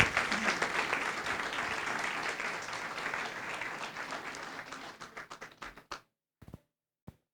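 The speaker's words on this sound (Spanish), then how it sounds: "Dele ese aplauso al Rey de Gloria" Church congregation applauds during a sermon, steady dense clapping that thins into a few scattered claps and then stops into near silence.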